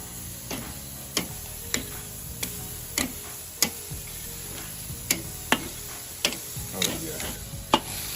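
Honey pecan chicken breasts sizzle on a hickory BBQ grill while they are flipped. Steady faint frying hiss runs under a dozen sharp, evenly spaced clicks and taps, with no talking.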